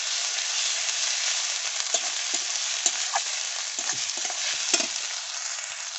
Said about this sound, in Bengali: আদা বাটাটা দিয়ে দিলাম।